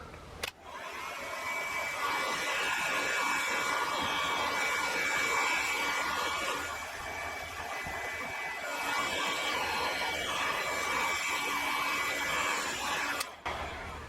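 A heat gun warms tint film laid over a Dodge Challenger headlight, giving a steady, close blowing whir that clicks on at the start and off near the end.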